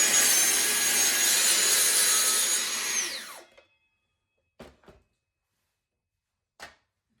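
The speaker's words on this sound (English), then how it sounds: "So let me show you actually cutting this and how it looks in practical" A circular saw makes an angled cut through wood, roaring steadily for about three seconds before winding down, followed by a few short knocks of the board being handled.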